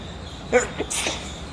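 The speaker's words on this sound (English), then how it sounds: "This Raptor liner's got me sneezing." One short sneeze, set off by Raptor liner coating work in the front wheel wells of a WRX build, is followed by a brief breathy catch, heard close and alone.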